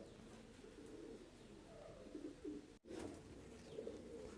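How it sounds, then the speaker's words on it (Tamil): Polish Lynx ornamental pigeon cooing in low, soft, repeated coos, with a couple of louder bursts near the middle and end over a steady background murmur. "இதுக்கு பேர் போலீஸ் லிங்க்ஸ் போலந்து புறா"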